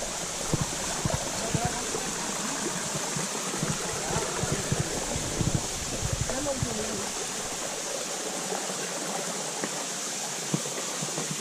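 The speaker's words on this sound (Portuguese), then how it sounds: "Então, a cachoeira está bem baixinha" A small waterfall with low water flow, at an outdoor site in Rio Bananal, Espírito Santo, gives a steady, even rush and splash that holds at a constant moderate level throughout, with no talking.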